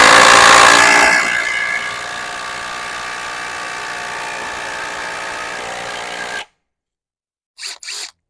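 A Metabo HPT impact driver spins up with a loud, bright whir that settles into a steady high-pitched drone for about five seconds, then cuts off abruptly, followed by two short faint clicks.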